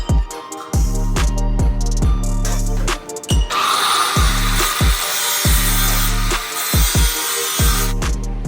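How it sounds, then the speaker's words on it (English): A power tool cuts through a car's metal brake pedal in a steady series of grinding, rasping strokes with a rhythmic pulsing motor whine, louder and brighter partway through as the blade bites. "we're just going to cut the brake pedal off"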